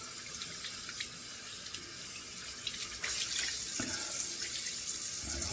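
Running water from a tap while soap is rinsed off a face at a sink, a steady close splashing stream that grows louder and busier partway through, with no talk.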